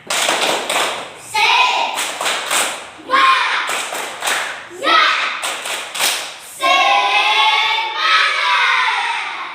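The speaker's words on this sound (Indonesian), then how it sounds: "Tepuk semangat dulu. Tepuk semangat." A classroom of children performs a rhythmic spirit clap, bursts of patterned clapping and thumps repeating in short groups, followed by loud chanting voices of the class.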